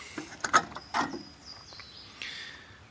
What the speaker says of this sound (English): We'll start by removing the air filter